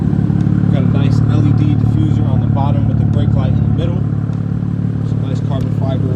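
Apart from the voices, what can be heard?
BMW M4 straight-piped AWE non-resonated track exhaust idling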